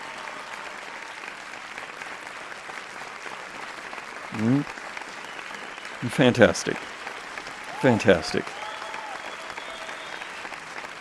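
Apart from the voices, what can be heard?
round of applause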